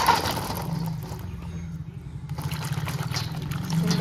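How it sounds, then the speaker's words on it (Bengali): Ripe jujube fruit (kul) being washed by hand in water, a close, continuous sloshing and trickling with a brief quieter moment midway. "আমি এবার ধুয়ে নেবো।"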